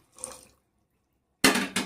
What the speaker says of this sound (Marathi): आणि आता थोडं गरम पाणी टाकूया